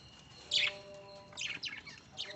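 Several lovebirds, among them yellow and green birds of a kind once kept in a cage, give short bright chirps: one loud burst, then a scattered cluster of quicker calls close by over a faint steady background.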